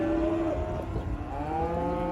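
Cattle at a sale barn moo loudly and close, one long drawn-out low call followed by another overlapping moo amid barn background noise.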